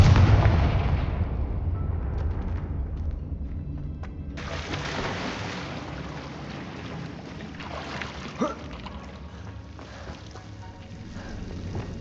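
A Confringo explosion spell in the Hogwarts Legacy video game, a deep booming blast that rumbles and slowly fades away, followed by a quieter stretch broken by a sharp pop.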